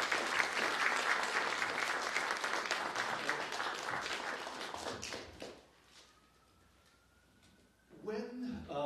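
Audience applause welcoming a lecturer at a library event, dense sustained clapping from a room full of people that fades out after about five seconds, followed by a quiet pause and a voice starting to speak.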